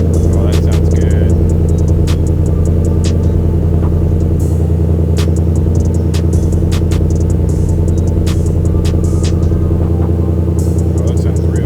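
Deep, steady exhaust rumble from a 2021 Ford F-150 with a Roush exhaust idling close by, continuous and loud, with scattered clicks and taps over the drone.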